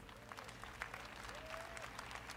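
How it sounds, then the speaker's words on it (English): Audience applause at the EA showcase at E3 2018, a steady wash of clapping filling a large hall, with faint voices and a whistle-like tone mixed in. "Let's give them all a round of applause."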